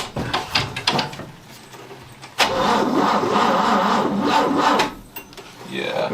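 A step van engine with a freshly rebuilt Carter BB-1 carburetor cranks over, a rough grinding churn after a few knocks and clatters, close and steady for about two and a half seconds before fading.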